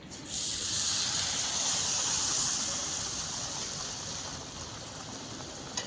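Surat-style ratalu puri, purple yam slices coated in besan batter and sprinkled with spice, sizzle in hot oil with a loud, steady hiss that begins abruptly and then fades slightly over time.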